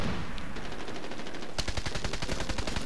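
Rapid automatic gunfire from Medal of Honor: Warfighter during online play: after a muffled stretch, a dense string of sharp, evenly spaced shots rattles on loud and close to the end.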